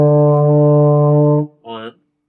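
Fifth-grade brass students in a beginner lesson sound a trumpet E, a full, steady held tone of about a second and a half, then a short, quieter second blast.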